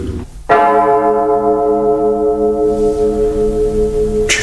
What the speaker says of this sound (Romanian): Ce sună ciudat! Mai are și clopotul ăsta.